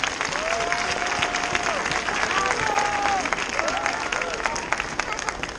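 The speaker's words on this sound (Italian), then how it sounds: "Vai con l'applauso che è partito, Andrea!" An outdoor audience claps for a tightrope walker, a steady wash of applause throughout with a few whistles rising above it.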